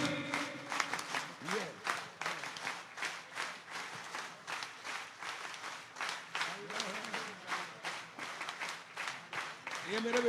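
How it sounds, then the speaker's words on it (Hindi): Audience at an outdoor poets' gathering (kavi sammelan) on a school ground in Harda claps in a rhythmic Harda-style pattern, with steady repeated bursts of applause and some voices over it. "जोरदार ताली बजाओ जरा"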